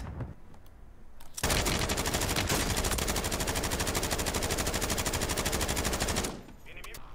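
Sustained automatic gunfire from a weapon in a PC game running on AMD Ryzen 5 8600G integrated graphics, a loud, dense rapid-fire burst lasting about five seconds after a quieter lead-in, then cutting off abruptly.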